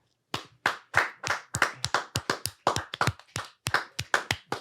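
Audience members clap their hands during a talk show, a loose run of distinct, crisp claps at an uneven pace, fairly close and clear with no talking over them.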